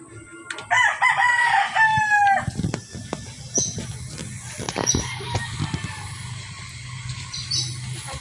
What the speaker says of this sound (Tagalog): May ibon po kami